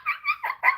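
A person imitates a dog barking, giving four short, yappy vocal barks in quick succession, close and fairly loud, with no other talk.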